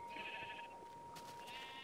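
Minecraft sheep bleat in a game scene, a couple of short nasal baa calls with a steady electronic tone underneath, close and moderately loud with no talking.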